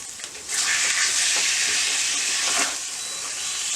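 Chicken liver fries on the simmer side of a hot Rayburn stove, a loud, dense hiss and sizzle that swells suddenly and holds steady, then eases slightly, close and with no speech.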